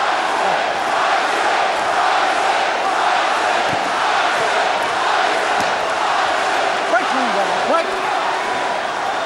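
A boxing arena crowd roars continuously during the 2004 Mike Tyson versus Danny Williams heavyweight fight, a dense, loud wash of cheering and shouting that never lets up.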